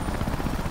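A helicopter in the video game Resident Evil 5 drones with a dense, steady rotor and engine roar, continuous and moderately loud for a brief moment, with no voices over it.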